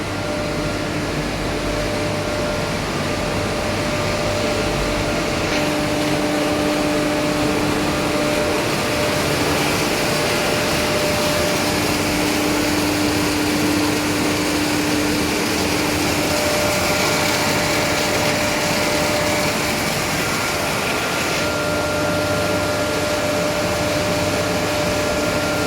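A Tornatech fire pump's electric motor runs under test, a loud continuous hum with a broad roar that stays steady throughout, with no talk over it.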